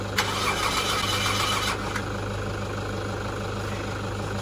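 Engine of a ute turning over and settling into a steady, lumpy idle with a rhythmic low throb, close and continuous, with a brief hiss at the start and no talking.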